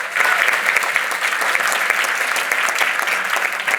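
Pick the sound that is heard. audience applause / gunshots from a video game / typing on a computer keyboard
audience applause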